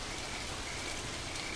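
Dense, steady hiss of torrential rain pouring down in the Serengeti, a constant close wash of drops with no pauses and no voices.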